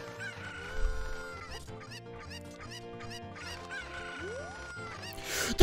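Video game chickens from Ocarina of Time cluck and crow in repeated bursts over a busy musical game soundtrack, with a rising swoop and a louder burst near the end.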